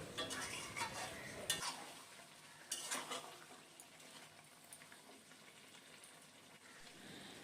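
Mutton curry with spice paste and water is stirred in a pan, giving soft wet scraping and a couple of louder clanks against the metal over a quiet sizzle, with no voices.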